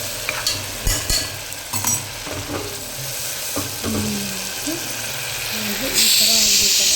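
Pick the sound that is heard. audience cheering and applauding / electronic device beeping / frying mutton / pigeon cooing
frying mutton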